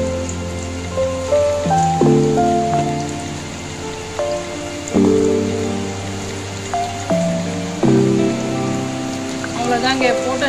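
Heavy rain falls outside with a steady, loud hiss that runs the whole time, under sustained musical tones.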